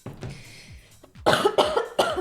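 A person coughs sharply, three close, loud bursts in quick succession after a quieter stretch of soft background noise.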